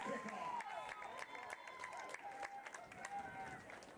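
Football crowd at a UNB at Holland game roars and cheers after a kick, a steady wash of distant voices and scattered claps with occasional whistles rising over the noise, no talk on top.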